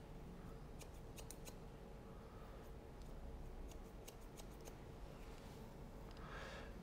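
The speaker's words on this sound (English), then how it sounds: "where's those favourite scissors of mine? I'm actually going to use the Barracuda through the side here because it's so thick" Barracuda scissors cut through thick hair during a disconnected pixie cut in a salon, giving a run of quick, crisp metallic snips in short bursts over a steady background hum.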